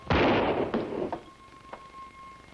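A single loud gunshot fired in a duel, a sharp close blast followed by a short rumbling decay and faint echo, with no talking.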